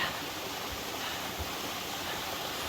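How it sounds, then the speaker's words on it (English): A waterfall on the Appalachian Trail in the Saddlebacks gives a steady, even roar of rushing water that holds without a break throughout. "Here's another waterfall."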